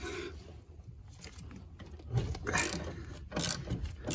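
A ratchet wrench loosens 15mm bolts on the brakes of a VW Polo breadvan, with close metallic clicks and short ratcheting bursts over a low background rumble.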